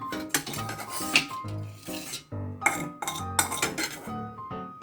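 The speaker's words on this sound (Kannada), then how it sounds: "ಒಂದು ಪ್ಲೇಟ್ ಹಾಕ್ತಾ ಇದ್ದೀನಿ" Dishes and cutlery clink and clatter as a plate is set out in a home kitchen, with repeated close, bright knocks and scrapes in irregular bursts separated by brief pauses.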